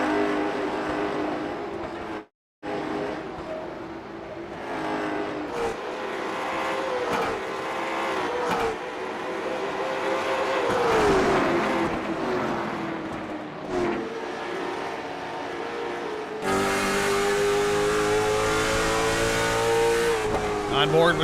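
Race cars in an IROC series event at Wilkesboro roar continuously around the track, engines rising and falling as they battle in close contact, with commentary voices talking over the steady loud racing noise.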